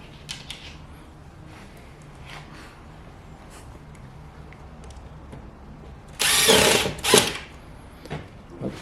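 A power drill drives screws into an overhead panel end, with two loud bursts of whirring near the end after a stretch of quiet faint clicks and handling noise, all close to the microphone.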